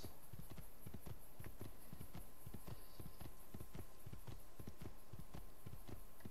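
Hooves of a horse in Assassin's Creed II clop in a fast, steady galloping rhythm, fairly loud over a constant background hiss.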